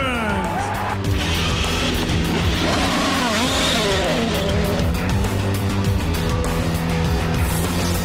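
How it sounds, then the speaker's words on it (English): IndyCar race cars fire up on the starting grid, a dense, continuous roar of many engines packed together that stays loud and steady throughout. "Drivers, start your engines!"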